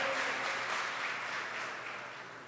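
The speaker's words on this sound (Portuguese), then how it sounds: "Vamos aplaudir o Senhor pela vida dele." Church congregation at a conference breaks into dense applause that holds steady and then slowly fades over a couple of seconds.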